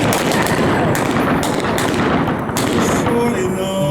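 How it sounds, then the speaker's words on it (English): Rapid gunfire sound effect for an Old West gunfight, a loud dense burst of overlapping shots that crackles continuously, then thins to scattered reports near the end as a low voice begins speaking. "When you hear the sound of gunfire"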